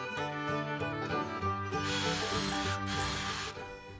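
Drill driving an auger bit with a screw tip into a barn beam while mounting a cleat for a mantel, a steady close mechanical whir and grind running throughout with no talk.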